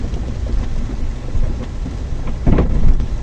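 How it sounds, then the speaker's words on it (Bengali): Heavy rain pours with deep thunder rolling in bursts, loud and close, with no one talking. "আমি আজকে বৃষ্টিতে ভিজছি"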